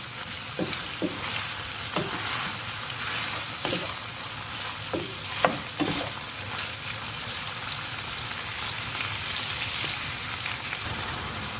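Liver sauté with vegetables and red and green peppers being stirred in a pan, a steady close sizzle of frying broken by several scraping, clattering strokes of the spoon against the pan.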